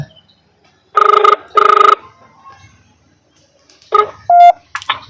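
A telephone dialed in a Tamil village: two bursts of dialing tones come first, then after a pause a short ringing signal and a few electronic beeps, loud and close with no talk over them.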